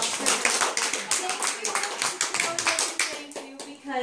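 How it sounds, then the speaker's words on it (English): Audience applause at a small concert: dense, irregular clapping from a modest crowd, close and steady for several seconds, with a few individual claps standing out. "How about a big round of applause?"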